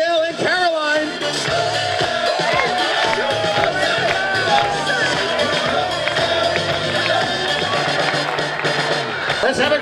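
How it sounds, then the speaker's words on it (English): A crowd at a Girl Scouts and residents' Walk and Roll benefit fundraiser cheers and applauds steadily throughout, with shouts and voices mixed into the dense, continuous roar. "A big hand for Helga Cozy, ladies and gentlemen."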